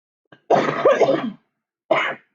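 Close, loud coughing: a long harsh cough burst followed by a shorter second cough after a brief pause.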